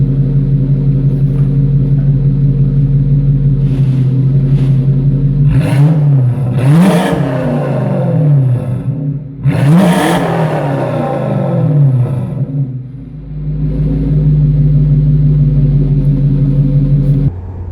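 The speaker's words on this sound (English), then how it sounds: "I have a video of the motor still in my Lexus before I pulled it all apart with a single chambered exhaust that I made for it" A Lexus 1UZ-FE V8 with a single chambered exhaust idles with a steady, loud rumble, then revs twice in sharp rising and falling sweeps before settling back to idle, with no talking.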